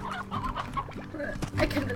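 Chickens cluck in the Slime Rancher video game, a steady stream of close, repeated clucks with a few louder squawks toward the end, and no speech over them.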